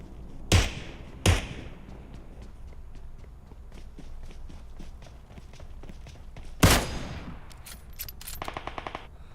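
Automatic gunfire in the mobile game PUBG Mobile, with three sharp loud shots standing out over a quieter pattering of rapid distant bursts and footstep-like clicks, ending in a quick rattling burst.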